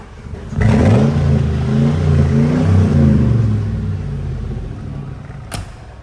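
A 2002 Mercedes-Benz G 500 V8 revs through its aftermarket exhaust, a loud close burst of deep throaty engine roar that rises, holds and slowly fades, with a brief sharp click near the end.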